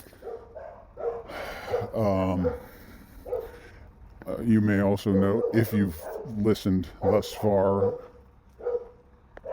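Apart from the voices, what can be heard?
dogs barking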